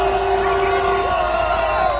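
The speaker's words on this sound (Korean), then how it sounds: "여러분 큰 함성과 박수로" A large crowd at a candlelight protest rally cheers and claps in a loud, dense roar, with a sustained tonal whoop or horn-like note riding over the continuous noise.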